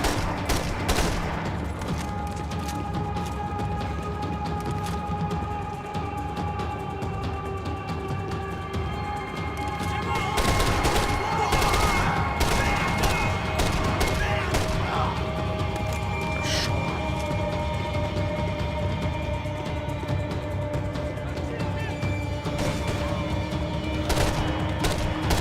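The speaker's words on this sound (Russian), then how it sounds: "А, я по руке стреляю." Gunfire in Max Payne 3 while aiming at an enemy's arm: scattered sharp shots and bursts, clustered around the middle, over a continuous bed of game music and ambience.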